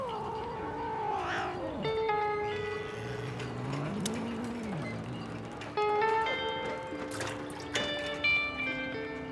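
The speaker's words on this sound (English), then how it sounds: "The entire colony of stray cats gathers to take advantage of the fish that are either too small or damaged to keep." Stray cats on a Greek island meow and caterwaul near fish discarded by fishermen, several drawn-out, wavering cries overlapping at close range, with clinks and dripping in the background.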